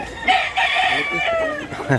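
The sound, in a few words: bullstag rooster at a rooster market in Cebu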